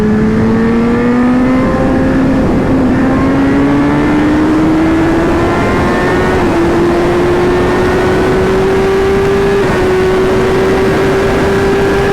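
A BMW S1000RR sport motorcycle accelerates hard on a public road, its engine a loud, continuous close roar whose pitch climbs in steps as quick shifts cut in, with no talking over it.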